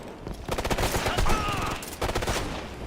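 Light machine gun fire in the video game Ghost Recon comes as rapid bursts of loud, close shots, with a short pause before another burst.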